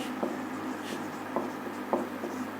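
Pen or chalk writing out a maths proof, with several short scratchy strokes at a steady, unhurried pace against a faint hum in a quiet room.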